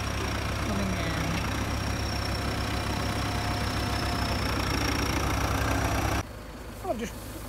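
An old David Brown tractor idles steadily in a hay field after hauling a baler down, a low, even mid-level engine chug that runs on before dropping away near the end.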